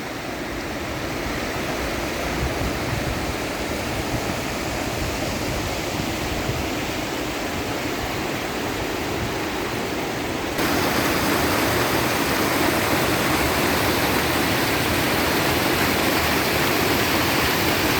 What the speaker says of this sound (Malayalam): നല്ലൊരു വെള്ളച്ചാട്ടമാണ് കേട്ടോ ഇത്